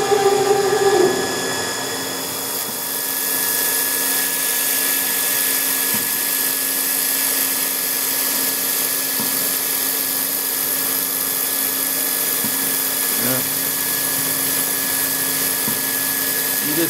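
A machine tool feeds a single-lip cutter slowly to chamfer a bearing part, producing a continuous loud whine with steady tonal lines and a few faint clicks, with no talk.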